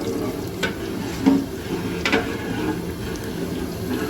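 Cumin seeds roasting in ghee in a large pot for paneer bhurji as onions go in, giving a soft steady sizzle with a couple of clunking stir strokes and scrapes.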